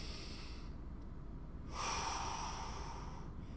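A single deep breath drawn in through the nose during a hip, shoulder and upper back mobility exercise, close and clear, a soft steady airy inhale swelling midway, with no talking.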